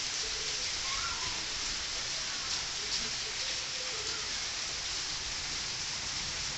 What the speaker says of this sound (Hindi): ये देखिए बारिश कितना तेज़ हो रही है, काफ़ी तेज़ बारिश हो रही है।